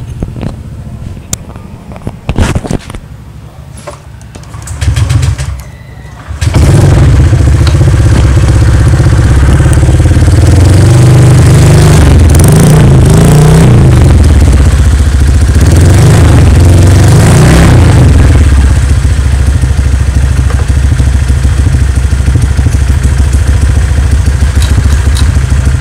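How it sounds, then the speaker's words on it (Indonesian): After a few clicks and a brief crank, a used motorcycle engine at a dealership fires up loudly and idles roughly, with a couple of throttle revs rising and falling. "Coba kita starter ya"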